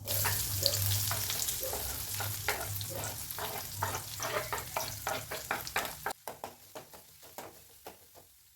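Chopped large onion sizzles and crackles in hot oil in a pan, a steady frying hiss broken by repeated scraping stirs, close by; the sizzle quiets near the end.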